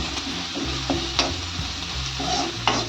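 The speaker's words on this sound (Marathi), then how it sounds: "परतून घेतो हिंग." Asafoetida sautéing in hot oil with mustard seeds for a spicy Maharashtrian potato bhaji, a steady soft frying sizzle with a few light stirring clinks and scrapes, close and continuous, no talking.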